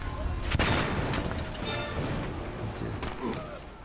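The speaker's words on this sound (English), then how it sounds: "now let us get a machine gun in there. a grenade in there." Battle noise from the WWI video game Valiant Hearts: The Great War, with machine gun fire and grenade blasts in a dense, loud, continuous wash of crashing booms and rattling bursts.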